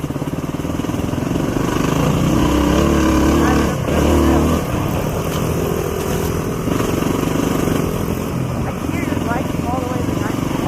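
A motorcycle putters steadily in third gear along the Compeau trail in Alaska, its engine loud and close with slight rises and dips, while riders talk over it.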